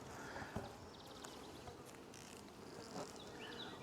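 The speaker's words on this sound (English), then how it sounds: "there's a few bees on the top actually, right here" Honey bees hum around an open hive whose lid holds a few bees and some stray comb, a soft continuous buzz with scattered louder passes of single bees flying close by, plus faint knocks and handling noises.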